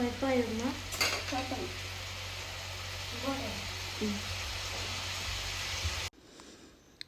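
Onion and tomato sauté with salt in a pan for chicken curry, a soft continuous sizzle with light stirring under a voice talking, ending in a sudden drop to near silence.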